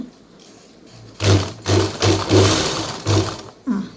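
A picot sewing machine stitches fabric in short, loud, rhythmic mechanical bursts, about five quick runs close by with brief pauses between them.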